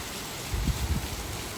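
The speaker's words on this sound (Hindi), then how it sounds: "देखो कितनी तगड़ी बारिश आ रही है।" Heavy rain pours down steadily outside a home, a dense, loud, continuous hiss with a few low thumps of drops striking a surface.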